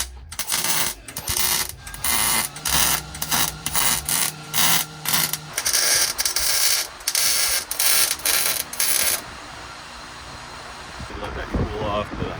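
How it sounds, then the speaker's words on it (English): A steel patch piece is welded onto a 1982 second-generation Honda Civic Wagon in a run of short, loud, crackling bursts, each about a second long with brief pauses between, then a quieter stretch. "So let's get that welded on."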